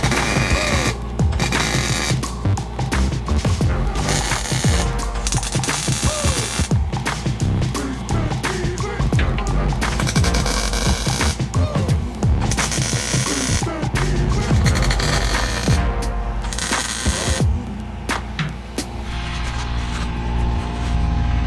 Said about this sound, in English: So let's get to welding.